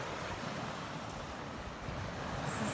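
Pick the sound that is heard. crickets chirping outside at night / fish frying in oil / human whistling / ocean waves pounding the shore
ocean waves pounding the shore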